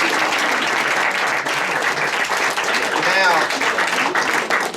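Church congregation applauding, a dense continuous wash of many hands clapping that holds steady throughout, with voices talking and calling out underneath.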